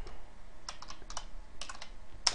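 Bursts of clicky keystrokes on a computer keyboard while coding, fast uneven clusters separated by short pauses, close and fairly quiet, with no talking.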